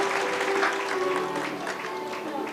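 Clapping from an audience at a Good Friday gathering, continuous and fairly even, with a sustained tone and crowd voices underneath.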